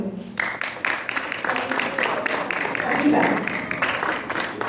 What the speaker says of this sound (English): Please clap for Moin.